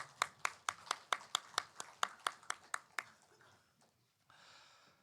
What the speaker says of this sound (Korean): 축복 박수하시겠습니다.